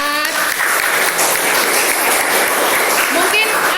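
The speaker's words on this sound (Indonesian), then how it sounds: "Kita kasih aplaus untuk kelompok 4." Classroom applause for a student group, a burst of many hands clapping together that stays dense and steady for a few seconds.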